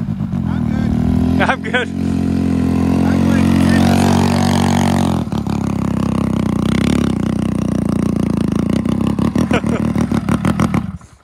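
A DTV Shredder engine revs hard as it takes off, its loud mechanical drone running steadily under talk and laughter, then cutting out abruptly near the end.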